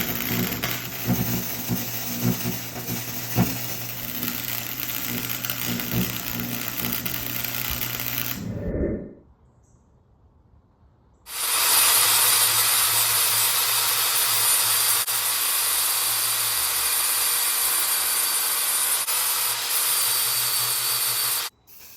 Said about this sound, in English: We're gonna weld this right across here just like that and make this tie rod